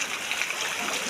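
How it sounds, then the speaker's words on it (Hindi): Fast water rushes through a village drain during heavy rain, giving a steady broadband roar with no pauses and no voices. "ये नाला है, काफ़ी तेज़ स्पीड से पानी चल रहा है।"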